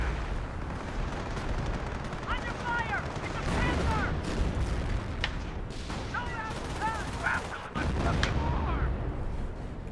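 Sniper gunfire crackles through a Company of Heroes 1 battle, with repeated sharp shots over a dense wash of combat noise while a commentator talks throughout.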